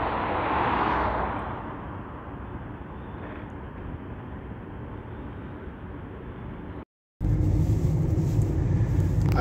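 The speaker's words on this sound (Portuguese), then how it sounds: "os caminhões pesando aí, né? Que vem trazer os suprimentos aí, né?" Heavy trucks rumbling steadily past a ceramics and sanitaryware factory in Anadia, Portugal, a broad continuous engine and tyre roar that swells near the start and holds loud, cutting out briefly before returning just as strong.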